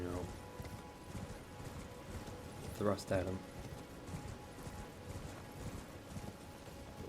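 Clip-clop of hooves from a mounted enemy's horse in the Elden Ring video game, a rhythmic trotting beat at low level beneath someone talking, with one brief louder burst midway.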